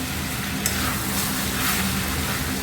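Chicken tehari masala with garlic and ginger paste sautéing in a pan, a steady close sizzle with scraping stirs throughout, no talk.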